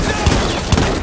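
Two loud gunshot bursts ring out in the Battlefield 1 prologue 'Break of Dawn' on Xbox One, each a short heavy boom over dense constant battle noise.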